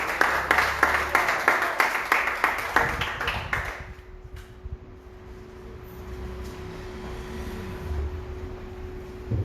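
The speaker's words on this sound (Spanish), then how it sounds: "Denle un aplauso a André." An audience applauds André at a religious gathering; loud, dense clapping fills the first four seconds, then fades out, leaving quiet room hum and faint shuffling.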